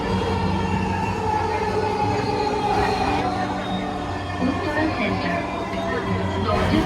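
Steady rumble of a metro train running in Bangladesh, heard from inside a carriage, with faint squeals and rattles over a loud, continuous low drone throughout.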